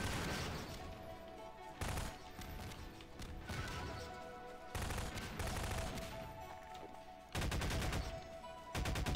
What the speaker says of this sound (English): So let's just go blow up some explosive barrels.